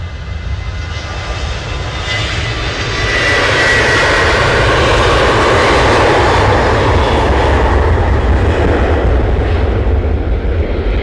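An airliner departs Manchester Airport, its engine roar swelling from a steady rumble to a loud, sustained broadband thunder that holds near and powerful, with no voices over it.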